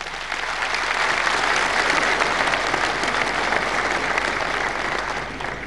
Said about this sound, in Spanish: La recibimos con este fuerte voto de aplausos